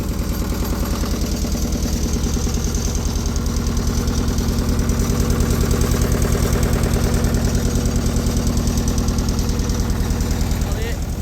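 A paramotor engine on a gondola runs close by at a steady, loud, rapid pulsing idle, its rhythmic chugging holding constant with a slight swell midway.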